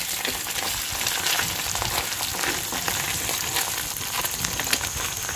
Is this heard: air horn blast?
no